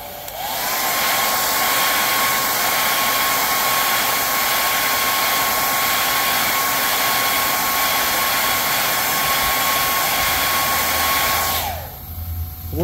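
A heat gun blows over freshly airbrushed paint, a loud steady whooshing roar with a constant high whine that holds for about eleven seconds before winding down and shutting off.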